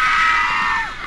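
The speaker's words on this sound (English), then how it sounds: "I hear someone screaming again." A single sustained scream rings out in the horror video game Bunker 16, loud and high, trailing off with a falling pitch at the end.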